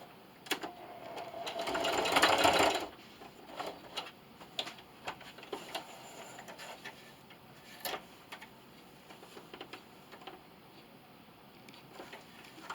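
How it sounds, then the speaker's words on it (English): A sewing machine backstitches the final corner of a plastic bag dispenser in a loud, steady burst of about a second, followed by scattered faint mechanical ticks and clicks, with no talking. "Now on this final corner, I'm going to backstitch."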